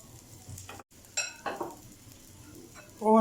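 Egg paratha frying in ghee on a pan, a soft close sizzle with a few brief scraping and clinking touches on the pan, no talking.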